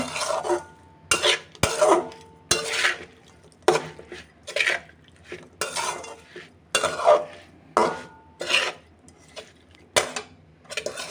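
Small fish are mixed by hand with spices before cooking, producing a close, regular series of wet squelching, scraping bursts with brief pauses between strokes.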